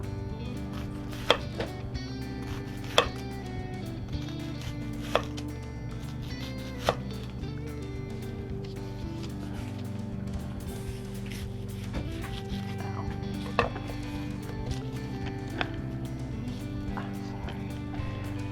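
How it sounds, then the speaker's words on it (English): A knife chops onions on a cutting board in a home kitchen, sharp taps spaced irregularly every second or two over a steady low background hum, close and fairly clear. "We're going to cut these onions up."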